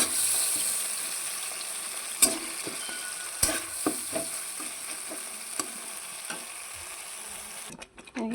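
Boiled dalia being stirred into a spiced gravy in a wok makes a loud, continuous frying sizzle, with sharp spoon knocks and scrapes against the metal, then a brief fade near the end.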